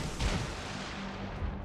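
Rear guns of a warship firing in World of Warships: Legends, a deep booming salvo rolling out near the start and rumbling on with a second thump near the end.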